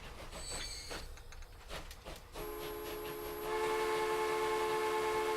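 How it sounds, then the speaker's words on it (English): A freight train runs in the Transport Fever video game, with a rushing rolling rumble that swells and gets louder toward the end, and high sustained tonal whistle or horn lines partway through. "Ladies and gentlemen, our first goods service by train."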